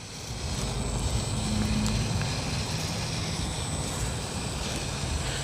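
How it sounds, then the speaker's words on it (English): A small 130 motor in an RC car at full throttle in low gear, a faint steady high-pitched whine over broad noise, continuous for several seconds. "That's full throttle in low gear."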